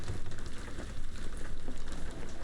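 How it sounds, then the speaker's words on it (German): Steady rain patters on a roof in a Sherlock Holmes video game, a soft, even hiss of drops with no talking over it. "Ja gut, das kann auch der Regen sein, stimmt. Der dann so raufprasselt aufs Dach."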